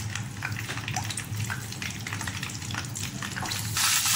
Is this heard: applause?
no